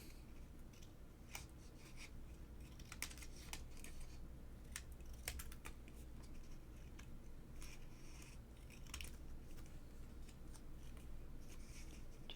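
Small scissors snip along a paper mouse cutout for a mini album, a series of faint, quick clicks and crisp snips over a steady low hum.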